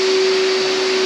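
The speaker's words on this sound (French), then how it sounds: "Avec l'aspirateur." A vacuum cleaner runs nearby with a loud, steady whine and a constant rushing of air, with no break and no voices.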